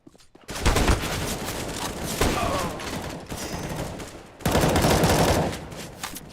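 Rapid bursts of video game gunfire from a shooter match, loud close volleys in several clusters with brief pauses between them, no talk over it.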